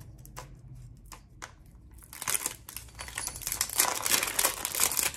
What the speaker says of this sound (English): let's remember that there's this other layer of plastic here